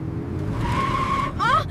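A car swerves and skids with a rising tire squeal near the end, heard over a low engine rumble and faint background voices.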